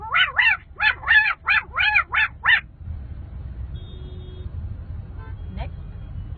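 A human voice imitates a dog barking, giving about eight quick, loud bark-like yaps in a steady rhythm before the sound drops to low background noise.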